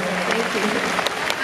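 Comic con panel crowd in London applauding, a short burst of dense clapping with some voices audible over and through it.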